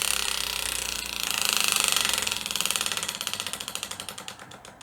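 A to-be-read prompt wheel spins with a rapid run of ticking clicks that gradually slow and spread apart as it winds down, close and fairly loud, with no talking.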